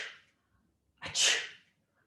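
A single deliberate sneeze, forced during a pelvic core exercise, bursts out after a short inhale, close and clear in an otherwise quiet room.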